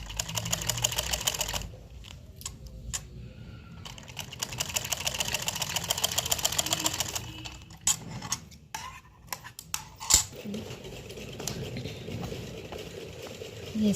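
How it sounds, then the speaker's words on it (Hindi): A sewing machine stitching a zip into trousers, rapid close rattling runs of stitching that stop and start, with short pauses and handling clicks between bursts. "बिल्कुल टॉप सीम सिलाई लगानी है"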